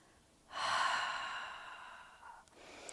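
A single long, breathy exhale during a slow yoga flow, close and clear, starting with a swell of air and tapering off over about two seconds in a quiet room.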